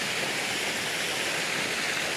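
Stream water at Fairy Glen, Appley Bridge rushes steadily over rocks, a dense, even close-up roar with no breaks or voices.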